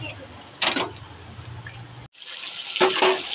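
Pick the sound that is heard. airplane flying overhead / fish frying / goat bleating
fish frying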